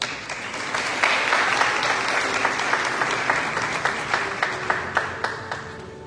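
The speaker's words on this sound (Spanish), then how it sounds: "Felicitamos con fuerte aplauso para los cuatro estudiantes" Sustained applause fills a hall at a technology college graduation ceremony, many hands clapping steadily with a few sharper claps standing out near the end.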